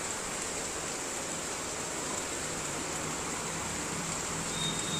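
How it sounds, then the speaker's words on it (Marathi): Heavy rain pours steadily outside a home, a dense, even hiss with no breaks, close and loud throughout. "पाऊस बघा कसा पडतो."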